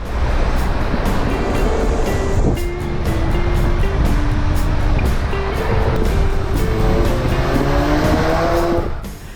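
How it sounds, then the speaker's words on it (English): Porsche Macan petrol SUV in S Plus mode, its engine and exhaust droning steadily and loudly close by, rising in pitch through gear changes over continuous road and wind roar, with no talking. "combined with the exhaust note in the S Plus mode, which you can choose from the rotary knob on the steering, it gives a thrilling driving experience"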